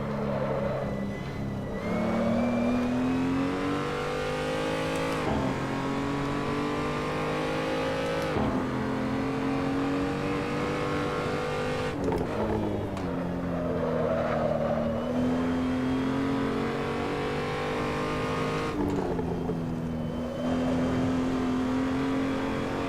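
A race car in Assetto Corsa revs hard around the Nürburgring Nordschleife, its engine note climbing repeatedly through the gears with sharp drops at each shift, loud and continuous with no talking.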